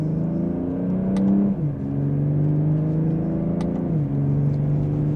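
A 2025 BMW M240i coupe accelerating hard in sport mode and second gear, its engine note rising steadily, dipping at each upshift and climbing again, loud and close from inside the cabin with no talking.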